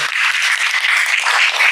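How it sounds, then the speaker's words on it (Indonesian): Classmates give a student a short burst of applause in a classroom, brisk and fairly close, a bright even patter of hands lasting under two seconds. "Jadi tepuk tangan untuk Aurel, ya."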